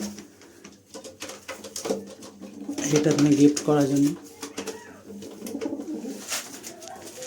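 Pigeons coo at a home loft after three birds arrive, soft repeated throaty calls swelling in the middle of the stretch beneath a person talking nearly throughout.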